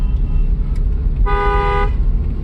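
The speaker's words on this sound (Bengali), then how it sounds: "হন দাও" A private car's horn gives one clear, loud honk of about half a second, sounding over a low idling-engine rumble.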